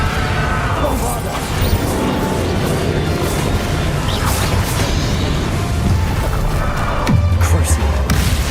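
Booming blasts from the Bombarda explosion spell in Hogwarts Legacy, loud and dense with crashing debris over a constant roar of combat noise.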